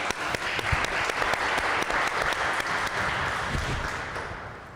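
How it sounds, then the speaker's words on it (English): Audience applause for coding bootcamp graduates at a startup week conference, a full, steady round of many people clapping that holds strong and then begins to taper at the end. "round of applause for our CodeUp graduates."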